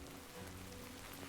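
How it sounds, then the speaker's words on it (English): Steady, faint rain in the video game Death Stranding 2, an even hiss of drops on surfaces with no talk over it. "It's going to show me that rain's going to be a thing."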